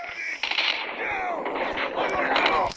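Gunfire in a Call of Duty video game match, sharp repeated shots and clattering game effects over a busy mix with music and tonal sounds, loud and continuous through the clip.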